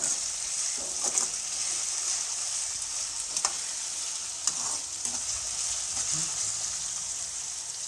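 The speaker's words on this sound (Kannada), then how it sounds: "ನಾನು ಗ್ಯಾಸ್ನ ಐ ಫ್ಲೇಮಲ್ಲೇ ಇಟ್ಟಿದ್ದೀನಿ ಈರುಳ್ಳಿ ಸ್ವಲ್ಪ ಚೆನ್ನಾಗಿ ರೋಸ್ಟ್ ಆಗಲಿ" Onions frying on a high gas flame for vegetable fried rice, a loud continuous hiss and crackle of hot oil with occasional clinks and scrapes of a spatula, close up.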